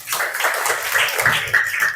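A class of sixth-grade pupils applauding together in a classroom, steady dense clapping throughout, with children's voices mixed in.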